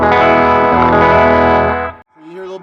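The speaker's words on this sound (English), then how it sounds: "You hear a little bit of distortion." An electric guitar chord rings through a Naga Viper treble booster, bright and slightly distorted, held loud for about two seconds and then cut off into a short softer tail.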